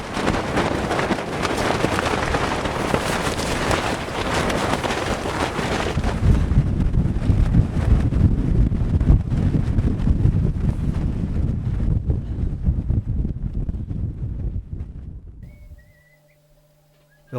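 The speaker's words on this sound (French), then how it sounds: "Ça fait 4 jours qu'on subit d'énormes rafales de vent et ça ne faiblit pas une minute." Violent storm gusts hammering a high mountain camp of tents, a loud continuous roaring rush with hissy buffeting that swells midway, then fades to near silence with faint tonal hum.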